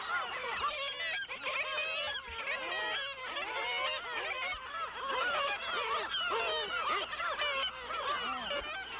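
Kittiwakes and common murres call densely from crowded cliff ledges in a Newfoundland seabird colony, a constant loud chorus of overlapping squawks, growls and honking cries with no pause.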